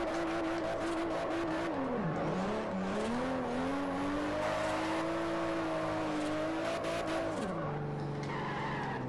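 A Toyota Supra drifting in Forza Horizon, its tires squealing in a long continuous howl that bends in pitch as the car slides through turns, over a steady engine drone.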